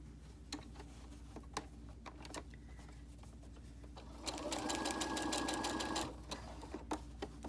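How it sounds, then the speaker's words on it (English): A sewing machine stitches a fabric mask in one steady, rapid whirring burst of about two seconds, close and clear, between quieter handling clicks. "Set this back up so I can finish sewing."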